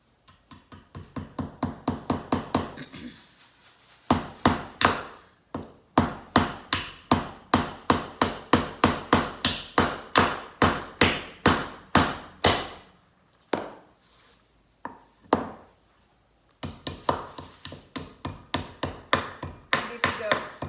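Child hammering nails into wood for string art, a long series of sharp, evenly spaced taps in quick runs with short pauses between them, close by.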